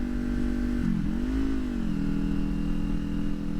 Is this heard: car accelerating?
yes